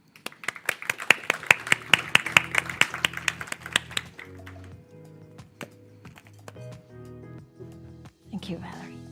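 A fragrance summit audience gives a short burst of applause, sharp claps fading after a few seconds as music takes over, with talk near the end.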